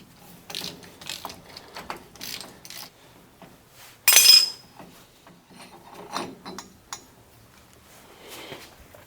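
Half-inch drive tool working the rear hub nut loose on a 1999-2006 Chevy Silverado 2500HD 14-bolt full-floating axle, with repeated close ratcheting and metallic scraping clicks in bursts, plus a brief sharp metal clank midway.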